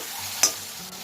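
Garlic fries and gets stirred in a pan on high flame for a Nepali-style spicy potato curry. A steady soft sizzle is cut by one brief sharp scrape of the stir.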